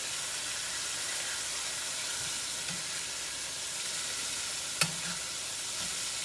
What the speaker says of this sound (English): So we're going to let that sizzle a minute.